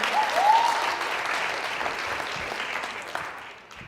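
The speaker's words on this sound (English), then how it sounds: "Can you give her a round of applause?" Audience applause at a college keynote event, a steady wash of many hands clapping that holds for about four seconds and gradually thins toward the end.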